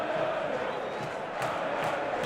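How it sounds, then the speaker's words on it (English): A football stadium crowd at Derby County against Sunderland gives a steady, broad round of applause and murmur for defender Chris Mepham, a continuous wash of clapping and crowd noise with no speech. "Chris Mepham's there, gets a round of applause as well from Trey Human behind him"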